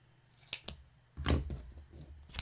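Scissors snip through material while a potting bench is being built, a few crisp cuts followed by a longer, louder chopping stretch, close and with no talking.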